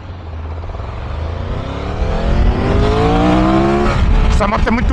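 A 2022 Triumph Tiger 1200 motorcycle accelerating hard through the gears, engine pitch rising steadily and loudly close by with wind noise and someone talking over it.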